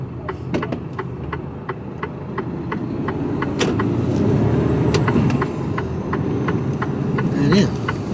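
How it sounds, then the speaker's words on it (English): Road traffic rolls past a pub called the Royal in Royal Wootton Bassett, a continuous rumble of cars and trucks heard from the cab of an HGV, with a steady ticking indicator on top. "There's a lot of traffic here."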